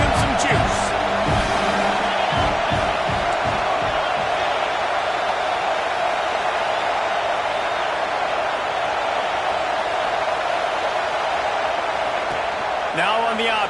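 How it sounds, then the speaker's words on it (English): A steady, loud stadium crowd roar fills a College Football 26 video game matchup of LSU versus Arkansas, holding unbroken for the whole stretch without dropping away. "the crowd's giving them some juice"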